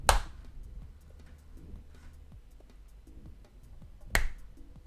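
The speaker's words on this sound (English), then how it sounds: "Oh, and a clap." A single sharp hand clap sounds at the start, used to trigger a LEGO Star Wars Boost droid, followed by a second sharp clap near the end over a quiet background with faint mechanical movement.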